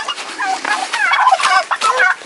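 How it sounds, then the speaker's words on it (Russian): Turkeys gobble loudly and continuously, several rapid warbling calls overlapping, close up with no talking. "вот этих индюков мы сейчас перенесем туда"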